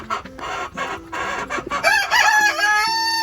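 Chickens cluck and squawk close by on a farm in a series of short bursts, with a rooster-like call rising near the end over a busy background.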